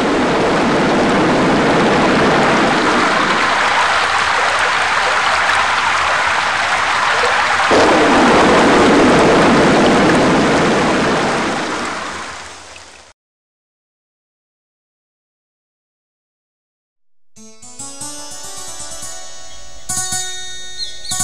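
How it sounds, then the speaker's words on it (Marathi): Heavy continuous rain roars like the sea as a loud, dense, unbroken wash. It cuts out abruptly into silence, and music follows. "संततधार पावसाचा आवाज आता समुद्र गर्जनेप्रमाणे वाढू लागला होता."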